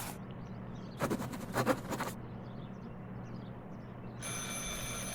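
A telephone rings in the Martha is Dead video game, with two bursts of harsh, rattling bell-like ringing followed by a steadier ringing tone, heard alone at moderate volume in a quiet room.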